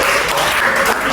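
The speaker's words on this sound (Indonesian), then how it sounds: "beri tepuk tangan" Students in a classroom clap together, a loud, dense burst of applause that holds steady from start to finish.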